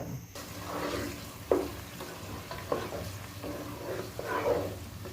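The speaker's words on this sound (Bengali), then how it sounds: "তেলটা আমি গরম করে এখানে দারচিনি এলাচি লং তেজপাতা দিয়ে দিয়েছি এবং দিয়ে দিয়েছি আদা রসুনের পেস্ট" Whole spices (cinnamon, cardamom, cloves, bay leaf) and ginger-garlic paste fry in hot oil for Old Dhaka beef korma, giving a steady close sizzle broken by a few scraping stirs, with no voices.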